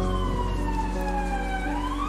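Police car siren in the Brick Rigs video game wails in long, slowly sweeping tones, steady and moderately loud throughout over a low engine-like rumble, with no talking.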